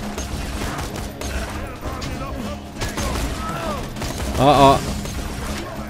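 Rifle gunfire in the video game Borderlands 2: a string of sharp shots and impacts over steady game noise, with a voice letting out brief exclamations, then a louder burst near the end.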